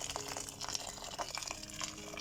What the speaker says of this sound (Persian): به اندازه 5 پیمانه آب جوش اضافه میکنیم